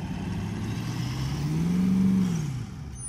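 A 4WD stuck in beach sand on Fraser Island strains on max tracks, its engine droning loudly, then revving higher in a rising whine around the middle before easing off.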